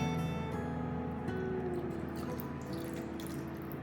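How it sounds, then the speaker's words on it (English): About a quarter cup of lime juice poured over raw kingfish for ceviche, a soft, steady liquid trickle running throughout with no talking. "It's about a quarter of a cup lime juice there. I'm going to pour that in."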